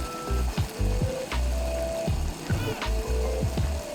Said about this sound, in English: We're cooking the Tajima beef in our own hot pots here